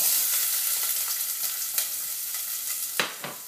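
Onions sautéing in hot oil in a soup pot, a steady broadband sizzle with a few brief crackling bursts near the end, close and fairly loud, with no voices.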